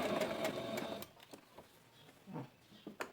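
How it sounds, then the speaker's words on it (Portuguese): A sewing machine runs a straight seam on a small eyeglass-case piece in a quick burst of rapid, even stitching, then falls to a few soft clicks and taps, close and clear. "é só uma costura reta, hein?"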